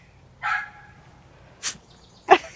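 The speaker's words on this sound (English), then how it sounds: "Oh, what a good dog." A dog barks outside a house, with a few sharp separate barks and short pauses between them, fairly close and with no one speaking.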